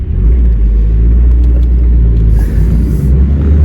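A Peugeot 309 1.9 diesel is driven along a road, its loud low engine rumble and drone steady and close throughout, with some rattles on top.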